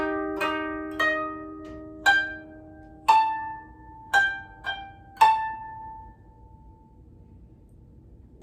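Plucked koto notes of the beginner piece Usagi (Rabbit), about seven distinct notes at a slow, even pace with ringing decays, played alone and close, then fading to quiet.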